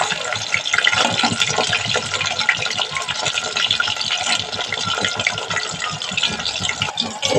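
Chicken pieces deep-frying in hot oil for chilli chicken, a loud, dense, continuous crackling sizzle that runs the whole time without letting up.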